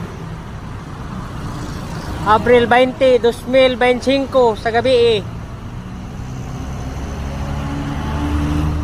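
Evening road traffic on a city street, a steady wash of passing cars and engines, with someone talking over it for a few seconds before the traffic continues alone.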